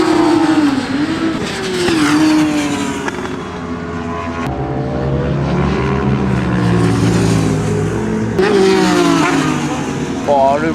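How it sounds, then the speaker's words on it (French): Kawasaki ZX-10RR 1000cc sport motorcycle being ridden, engine revving and rising through gears with a loud, rough roar and wind noise throughout, pitch sweeping up and dropping between shifts. "Oh le bruit frère, c'est un truc de malade"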